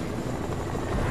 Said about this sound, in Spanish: Otro helicóptero, ¿eh?